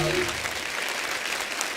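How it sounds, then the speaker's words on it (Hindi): Studio audience applause for guests Raveena, Sudha and Guneet on The Kapil Sharma Show, a dense steady wash of clapping lasting under two seconds, with a brief tonal trace at the very start. "एक बार जोरदार तालियां हो जाए रवीना जी, सुधा जी और गुनीत जी के लिए।"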